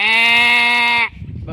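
A person imitates a big sheep bleating, one long loud nasal tonal 'baa' held for about a second before breaking off, followed by faint background noise.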